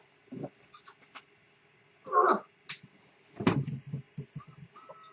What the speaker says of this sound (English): Oh, I'm sorry, that's my cat.